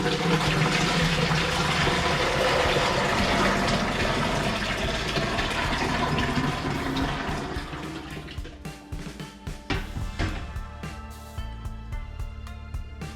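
Very dark fruit juice for homemade fruit wine pours steadily into a container, a loud continuous liquid gush that later breaks into splashy, uneven trickles and drips near the end.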